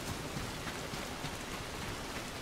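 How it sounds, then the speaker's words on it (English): Steady rain falling in the video game Soulmask, a dense, even hiss of drops on surfaces continuing without a break, no voices over it. "When exactly is this rain gonna stop?"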